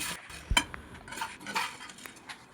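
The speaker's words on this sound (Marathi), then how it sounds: "आता एका प्लेटमध्ये आपल्याला हा साबुदाणा काढून घ्यायचे" Roasted sago scooped out of a pan onto a plate with the heat off, quick metallic scrapes and clinks of a spoon against cookware in short bursts, close by and quiet, without speech.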